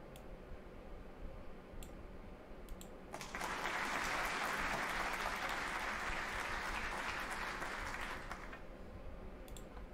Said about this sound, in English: Add sound, choose file. Applause.